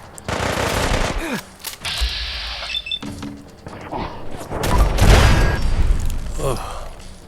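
Minigun fire in Fallout 4, loud sustained bursts of rapid gunfire with heavy booms, broken by short pauses and mixed with other game noise and some talk.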